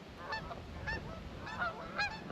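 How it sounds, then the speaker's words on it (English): Canada geese honk in a loose series of four or five calls near a dam, moderately distant and fairly faint against a steady background hiss, with no voices. "Here comes some Canadian geese"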